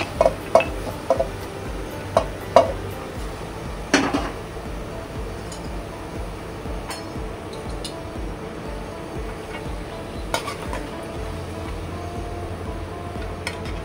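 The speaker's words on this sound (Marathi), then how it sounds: "आणि मग ही भाजी अशी व्यवस्थित जरा परतून घ्यायची" A few sharp metallic clinks of a spoon against a pan as jackfruit vegetable is stirred into a tempering, then a quiet stretch of soft scraping and faint kitchen background.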